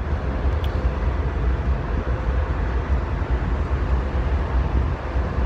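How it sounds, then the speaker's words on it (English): An MBTA F40PH-3C diesel locomotive idles or runs nearby in Worcester, giving a steady, loud, broadband engine rumble with strong low-end throb that holds evenly throughout, with some wind noise on the microphone. "That locomotive sounds bad"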